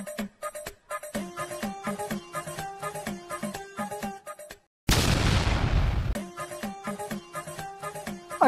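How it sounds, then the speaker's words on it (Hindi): A Diwali firecracker bomb bursts once with a loud, broad boom lasting over a second, standing out between stretches of rhythmic background music. "अच्छा वो बम फोड़ रहा है"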